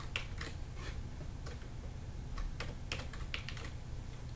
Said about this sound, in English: So go ahead and open up a new image and type in your text.